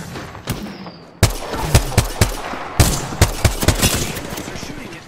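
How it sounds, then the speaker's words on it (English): Enemy gunfire in a video game cracks out in sharp, irregular shots and short bursts, loud and close over a constant background din. "They're shooting at me. Firing."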